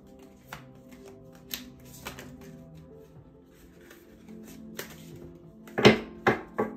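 Playing cards shuffled and slapped down by hand, scattered soft riffles and taps building to a few louder flicks near the end, close and quiet in a room.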